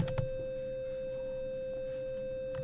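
A single steady synthesized tone holds one pitch throughout, clean and sustained, with a couple of faint clicks near the start.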